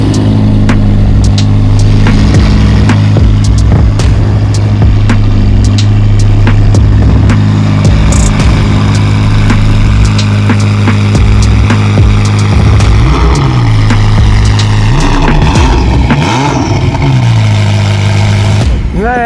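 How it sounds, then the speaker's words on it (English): A Novitec-tuned Ferrari SF90 Spider, yellow, with a twin-turbo V8 and 1109 hp, rumbles loudly and close up. The exhaust drones at a deep idle with blips and rising revs, and crackles and pops scatter throughout. "the moment you start up this car and that exhaust kicks into life"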